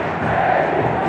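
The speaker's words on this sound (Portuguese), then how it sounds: "E a torcida está gritando o nome do Levi" Football crowd at a Série C match between Clube do Remo and Fortaleza chanting player Levi's name, a dense, steady roar of many voices filling the stadium throughout the short stretch.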